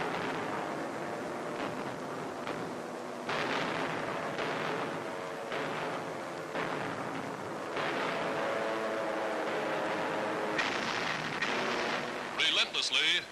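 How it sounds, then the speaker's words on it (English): American and RAF bombers drop high explosive across a 40-mile desert front, a continuous heavy rumble of blasts and booming detonations with repeated surges, carried under a narrator speaking throughout on an old newsreel soundtrack. "From the sky, American and RAF bombers blast the enemy across a 40-mile front, unleashing tons of high explosive on Rommel's surprised and reeling"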